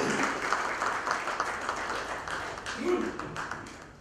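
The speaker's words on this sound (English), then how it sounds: "a huge round of applause for the partnership between Religare and YourNest" A conference audience gives a big round of applause for a newly unveiled investment partnership, the clapping dense and sustained throughout while voices carry over it.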